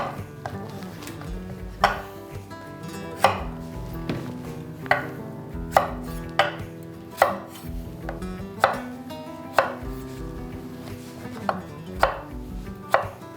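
A knife dicing zucchini on a cutting board, about a dozen crisp, evenly spaced chops with woody knocks, close and clear.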